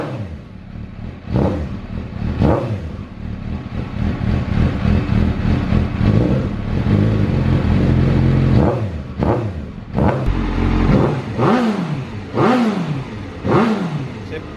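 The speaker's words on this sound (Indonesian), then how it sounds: "gue tes nyalain dulu ya motornya ya" A Suzuki GSXR 750 K1 motorcycle engine fires up and idles close by, punctuated by a series of sharp throttle blips that rise and fall repeatedly, loud and alone.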